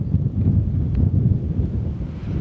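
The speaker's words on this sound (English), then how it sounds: "It's about 55 degrees, about 20 miles per hour wind" Strong coastal wind of about 20 miles per hour buffets the microphone on a cool, dry day by the sea, a steady low roaring rush with no voices.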